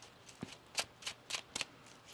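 A deck of tarot cards being shuffled by hand during a reading, heard as a run of five or six quick, crisp riffling bursts close by with short gaps between them and no talking.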